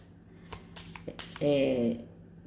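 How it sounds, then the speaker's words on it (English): A small deck of Kipper fortune-telling cards being reshuffled by hand, a few quick papery riffles and taps up close, followed by a brief spoken phrase. "let's reshuffle the 9 cards"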